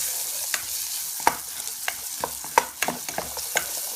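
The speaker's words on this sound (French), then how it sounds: "J'ai mis les oignons. Je les laisse juste fondre" Onions soften in a pan with a low steady sizzle while a spoon stirs them, giving irregular clicks and scrapes against the pan, close and moderately loud.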